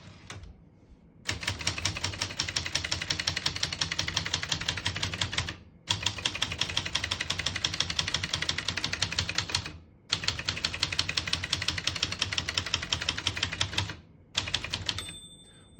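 Rapid clacking keystrokes on a 1964 Brother De Luxe portable manual typewriter, typed in three dense bursts separated by brief pauses, close and crisp with no talking.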